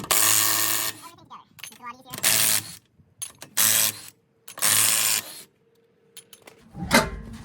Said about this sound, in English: I have my impact gun, back socket. Take off all the lug nuts.